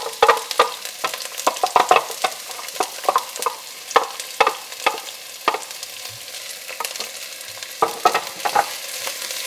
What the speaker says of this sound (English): Now I have heated some oil in my pot and I'm now adding the onions.